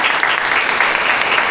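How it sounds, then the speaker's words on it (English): Audience applause at an agent sharing session, a dense steady wash of many hands clapping together at full volume throughout, with no break or speech over it. "A big round of applause to all of you"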